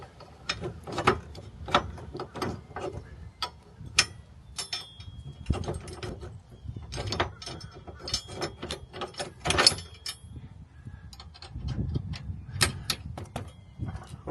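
An RV tow bar arm is lifted by hand, its mechanism giving a string of sharp, close clicks and ratcheting knocks in irregular bursts over a quiet background.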